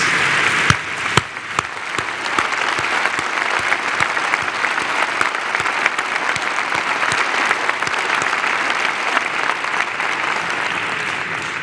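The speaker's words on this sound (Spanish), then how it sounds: "Aquí sí, yo lo promuevo. Un aplauso" Audience at a Mexican government annual report event gives full, sustained applause. It forms a loud, even roar of many hands with a few crisp nearby claps early on, continuing unbroken throughout.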